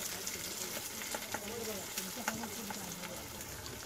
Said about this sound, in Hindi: टमाटर को हमें अच्छे से सॉफ्ट कर लेना है तेल में।